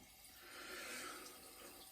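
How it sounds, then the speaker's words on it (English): Tap water runs steadily into a sink to wet a horsehair shaving brush for lather, a soft continuous close-up splashing with no voices. "Let's add more water, shall we?"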